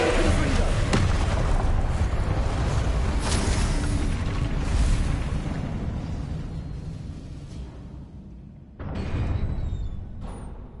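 A Confringo blasting spell explodes with a loud, roaring blast that rumbles and slowly fades, then a second burst erupts near the end with a bright crackling tail.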